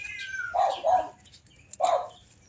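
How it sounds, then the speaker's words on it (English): Cats yowling and screeching in a few loud bursts with a pause between, sounding close by as they fight next door; no clear barking stands out. "Cats are at war next door and a dog is barking at them."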